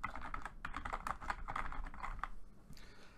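Rapid keystrokes clatter on a computer keyboard in short irregular bursts, close and moderately loud, while a Windows 10 settings search is typed, ending in a quieter pause.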